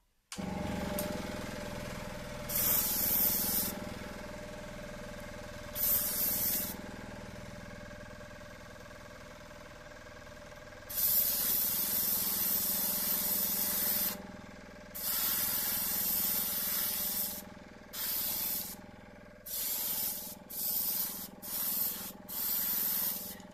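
An airbrush sprays clear car-body varnish onto a 1/24 Revell Ferrari F2007 model in repeated bursts of hissing spray, short and long, separated by quiet gaps with no talking.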